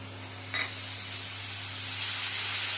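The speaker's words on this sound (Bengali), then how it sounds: "ভালো করে মিশিয়ে কষিয়ে নেব।" Spice masala with turmeric, salt and a little water being stirred and sautéed in a pan for a fish curry, giving a steady soft sizzle with one brief scrape of the spoon, close and alone over a low kitchen hum.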